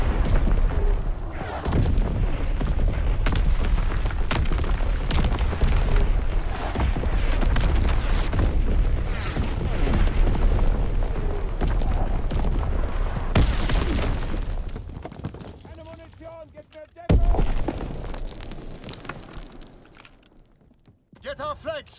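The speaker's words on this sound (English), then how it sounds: "Incoming enemy artillery!" Incoming enemy artillery explosions in a multiplayer World War II shooter match on a V2 map, heavy booming blasts layered over constant battle noise and radio-style voice callouts, with a sharper crack near the end.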